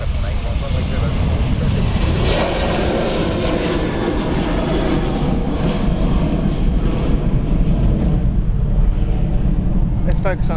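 A Scandinavian airliner, flight 781, takes off from runway 04 at Stansted Airport, its jet engines a loud, steady roar that fills the scene and holds strong throughout. Faint chatter sits under the engine noise.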